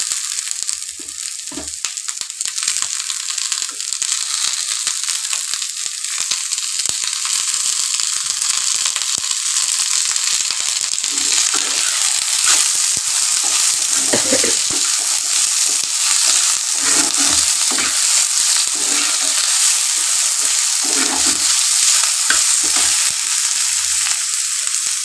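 Tomatoes fry hard in a pan with a loud, steady, hissing sizzle. A utensil scrapes and stirs now and then, close by, and nobody speaks.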